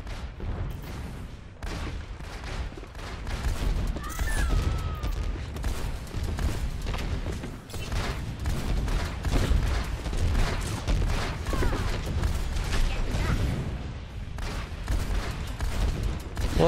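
Missile launches and explosions from the video game Overwatch, in a mirrored deathmatch mode, come as a dense, continuous barrage of booming blasts and rapid fire, loud and unbroken from start to finish.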